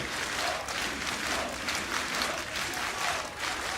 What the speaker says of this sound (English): this home crowd loving every minute of it